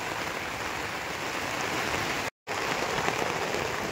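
A torrential downpour drums on a tarp shelter outdoors, a constant loud roar of rainfall that cuts out for a split second before resuming unchanged.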